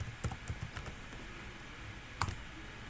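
Soft keystrokes tap on a computer keyboard in a few irregular bursts, close and fairly quiet, with one sharper click near the end.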